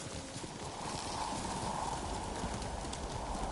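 A horse trots with steady clip-clopping hooves and a brief whinny in the Ghost of Tsushima video game, a continuous even rhythm over a constant background with no talking.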